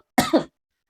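A single short, close cough with two quick bursts, followed by silence.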